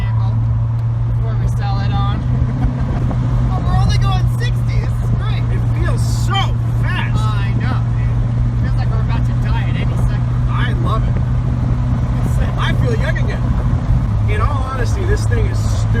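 Steady engine drone and road roar inside a Honda Prelude moving at speed, loud and continuous beneath people talking in the cabin.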